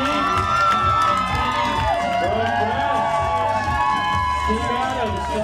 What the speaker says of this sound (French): Le public acclame le champion du monde